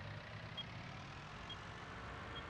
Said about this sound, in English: If you guys are hearing that little beeping, that's your flashers.